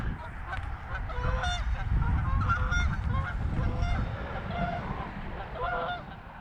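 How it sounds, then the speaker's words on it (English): A flock of geese honks repeatedly in overlapping, nasal calls, moderately near, over a low outdoor rumble by the water at dusk. "I swear, geese sound like a broken car alarm"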